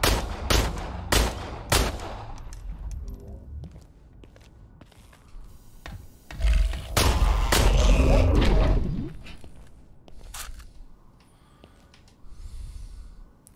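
Shooting in the video game Industria comes as a series of loud, close single shots spaced apart, then a heavier sustained stretch of firing and thuds, with quieter gaps between.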